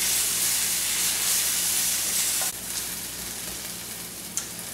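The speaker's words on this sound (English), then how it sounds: "I got 1 cup sliced yellow onion. Going to give this a good mix, and we're going to cook this about 2 to 3 minutes." One cup of sliced yellow onion frying in a pan, a loud, steady close sizzle that drops slightly in intensity midway as the onions are stirred, with no talking.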